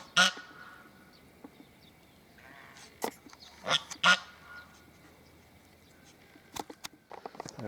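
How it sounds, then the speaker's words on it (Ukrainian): Domestic geese, a gander and a goose, honk a few times at moderate distance, short loud calls scattered across a quiet outdoor background, with some faint voices. "Гусак і гуска."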